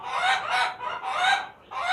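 Ornamental chickens, including Brahma, Silkie and laughing chicken breeds, cluck in close, bursts of calls that repeat in a rough rhythm with short gaps between them.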